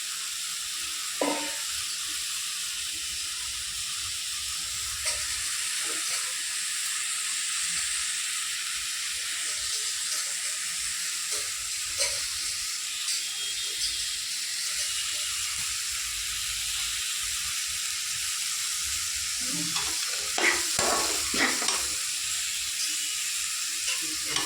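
Onions sauté in hot oil for vengaya chutney, giving a steady close hiss and sizzle throughout, with occasional scraping stirs clustered near the end.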